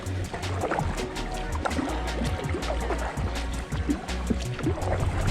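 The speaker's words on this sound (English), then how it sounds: "And I'm paddling." A kayak paddle dips into the water in a steady rhythm of splashes and drips, close up over a constant low rumble, with no voices.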